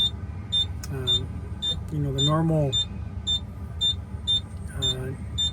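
A regular high electronic beep chimes repeatedly inside a car with the check engine light on as a person speaks briefly over a low idling hum.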